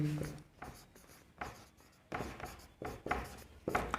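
A pen scratches across paper in short repeated strokes during a maths lesson, close and moderately loud, with brief pauses between bursts of writing.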